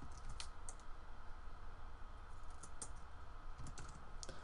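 Fingers type on a computer keyboard in a run of quick, light, uneven clicks, faint and close, with no talking.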